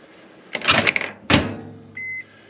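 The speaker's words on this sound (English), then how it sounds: "You can see the microwave working." Microwave oven in a Winnebago Sightseer 29R motorhome, with a couple of clunks from the door and controls, followed by a soft running hum and a short electronic beep.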